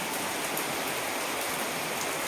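A steady roar of heavy rain falls close by, dense and continuous with no voices.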